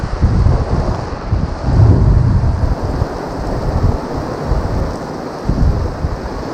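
Heavy rain pours down in a dense, roaring downpour with low rumbling thunder and wind buffeting the microphone, close and loud throughout.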